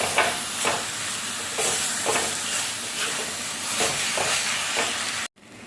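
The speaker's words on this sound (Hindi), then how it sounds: "अब इसे डाल करके हम इस तरह से मिक्स कर देते हैं।" Ground coconut being stirred into a modak mixture in a pan over a low flame, steady scraping strokes repeating roughly every half second over a soft sizzle, close by, ending abruptly.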